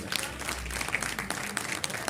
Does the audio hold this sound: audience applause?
yes